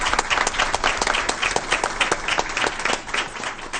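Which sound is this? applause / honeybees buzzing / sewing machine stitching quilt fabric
applause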